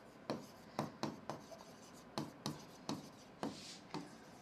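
Pen scratching across paper while writing an IELTS essay by hand, a close series of quiet, rhythmic strokes with brief pauses between them and no talk.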